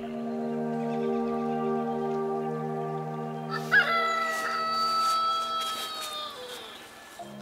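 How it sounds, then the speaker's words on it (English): A cockerel crows once, loud and close, at a morning camp beside a birch log stack in Swedish Lapland. A steady tonal hum runs beneath the call. "The cockerel's awake"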